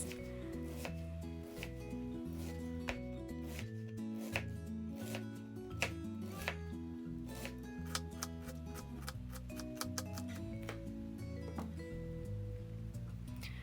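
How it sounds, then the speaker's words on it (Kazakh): Kitchen knife shredding cabbage into thin strips for pickling, a steady run of crisp close chops over a board alongside a faint repeating ticking, with no talk. "Капустамызды, яғни орам жапырағымызды ұзыншалап, жіңішкелеп, ұсақтап турап алатын боламыз"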